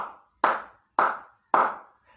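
Hands clap four times at an even, steady pace, each clap sharp and close with a short room ring, the first slightly softer than the rest.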